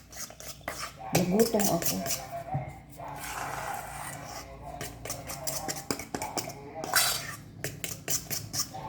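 A utensil clinks and scrapes against a bowl, stirring pancake batter with egg and oil in quick repeated strokes while a person speaks.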